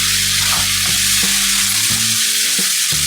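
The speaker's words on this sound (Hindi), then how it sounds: "अब इसमें बारीक कटी हुई गाजर डाल देंगे। अब इसको भी 1 मिनट तक फ्राई करेंगे।" Finely chopped carrots sizzling in a pan for pasta, a loud, constant hiss of frying with soft stirring scrapes at regular intervals.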